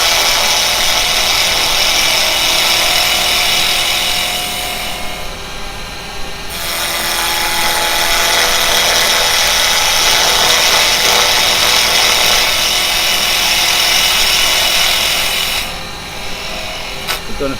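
Yew is turned on a lathe with a carbide tool, giving a loud, continuous scraping hiss close by. The cut briefly softens twice as the tool lifts, then picks up again.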